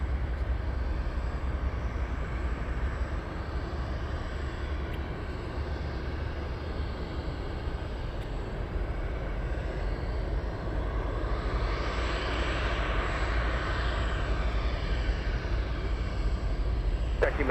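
A large jet, likely an MD-11 or 747, taking off from runway 33 at Anchorage airport: a steady, distant engine roar that swells slightly toward the end, heard alone without speech.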